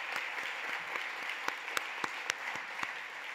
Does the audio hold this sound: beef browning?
no